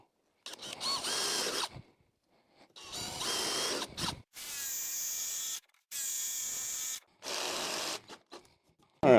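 Short bursts of a power drill boring into wood with a 1/4 inch brad point bit, five separate runs of a second or two each with brief pauses between, close and fairly loud.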